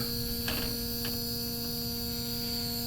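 An air sampling pump runs steadily indoors in an apartment living room after mold remediation, giving a constant, even mechanical hum with a few faint clicks and no talk.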